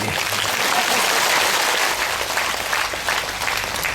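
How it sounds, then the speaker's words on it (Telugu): An audience at a spiritual meditation gathering applauds in a steady, dense wash of clapping that continues for several seconds without a pause, filling the hall with no voices over it. "చప్పట్లు కొడితే గట్టిగా కొట్టాలి."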